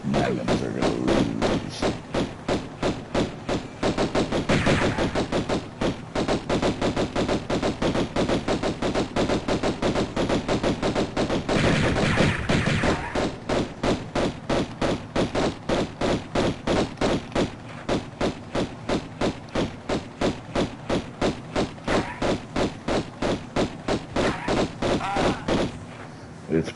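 Rapid, steady pistol gunfire from Tomb Raider I, with loud, dense shots continuing throughout in a relentless rhythm and a brief lull near the end.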